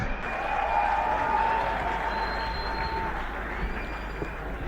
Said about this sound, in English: A big round of applause for all our legends.